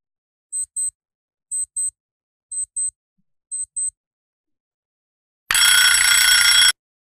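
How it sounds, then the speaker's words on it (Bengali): An alarm clock sound effect: four short paired electronic beeps in a steady rhythm, then a pause, then a loud continuous metallic bell ring lasting about a second, isolated against silence. "এটা হচ্ছে অ্যালার্ম ক্লক।"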